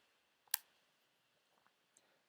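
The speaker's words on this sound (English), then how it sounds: "To find our answer, we just type that in our calculator" Keys pressed on a calculator to enter 11 sine 37: one sharp, close click followed by a few much fainter ticks in a quiet room.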